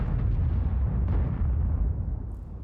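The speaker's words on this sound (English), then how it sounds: "People firing HE at the 279." HE shells bursting against an Object 279 tank in World of Tanks, heard as a deep, rumbling low boom that rolls on and slowly fades, with a faint crack partway through and no talk.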